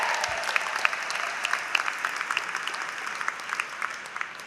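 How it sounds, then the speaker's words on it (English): Commencement audience at a college graduation ceremony applauds first-generation graduates, a steady wash of many hands clapping with sharp individual claps standing out, filling the hall at moderate level without speech. "Can I get a little applause there?"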